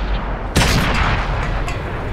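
A single sharp, loud tank cannon shot in World of Tanks on PS4, fired at low tier, with a broad blast that decays into a rumbling tail.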